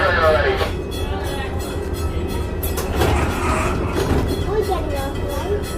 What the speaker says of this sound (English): so you are on the train already